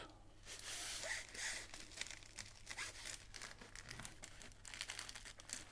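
Soft diamond painting canvas packaging rustles and crinkles in close, uneven bursts as it is handled, faint overall with no talk.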